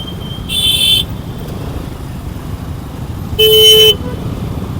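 Two loud, sustained horn blasts, each lasting about half a second, ring out over a constant rumble of congested road traffic heard from a motorcycle.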